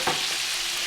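Onions fry in a pan for chicken massalé, a brief burst of close, dense sizzling with a quick stirring scrape near the start.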